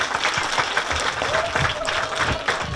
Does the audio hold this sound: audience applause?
yes